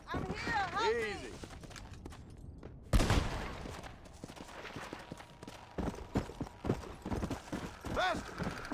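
Rapid rhythmic horse hoofbeats gallop in the video game Red Dead Redemption: Undead Nightmare, with game sound effects and sharp bursts, while people talk excitedly over the action.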